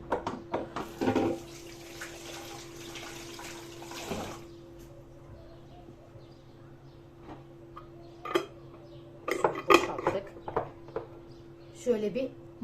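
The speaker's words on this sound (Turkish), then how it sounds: "Şu kalanını şöyle hemen elimi yıkayayım." A kitchen tap runs as hands are rinsed under it, a steady hiss of water broken by splashes and light clinks of dishes, with a low hum underneath and no talking.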